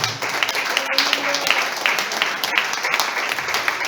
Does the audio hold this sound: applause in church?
yes